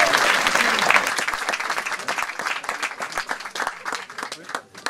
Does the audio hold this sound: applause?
yes